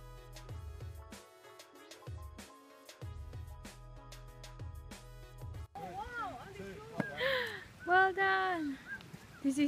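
Ducks and geese honk and squawk loudly at a duck feeding spot on a Tasmania outing, calls clustering near the end after a stretch of steady tonal background sound, with no talk.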